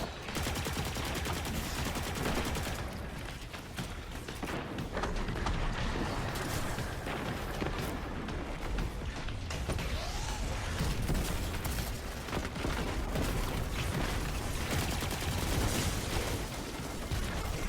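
Skiff turrets fire in a Destiny 2 Grandmaster Fallen S.A.B.E.R. strike, producing dense, continuous rapid gunfire bursts layered with clattering mechanical effects at a steady, moderate level throughout.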